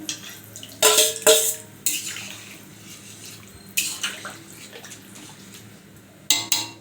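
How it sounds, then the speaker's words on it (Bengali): Water poured in several short, splashy bursts into a pot of rice for a katla fish-head muri ghonto, each pour close and clear, separated by quieter gaps. "এই যে আমার মুড়িগুলো এখন এই যে জল দিয়ে দিলাম"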